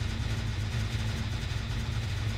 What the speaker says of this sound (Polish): Hałas zrobią te silniki.